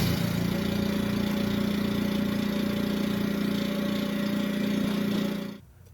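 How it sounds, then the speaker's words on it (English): A vacuum pump behind a laboratory oven running as it evacuates the chamber, a loud, steady, motor-like drone with a low pulsing rhythm that cuts off sharply at the end. "Here, I'm plugging in the pump behind the oven,"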